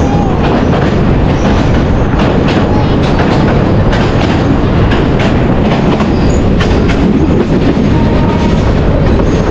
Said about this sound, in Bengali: এটা ছোট্ট একটা ব্রিজ, এখন এই ব্রিজ পার হচ্ছে দেখেন